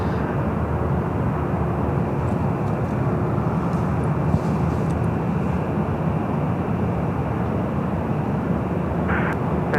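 A Hawaiian Airlines airliner arriving from Honolulu on the south side of LAX airport, its jet engines producing a continuous broad roar that holds steady throughout.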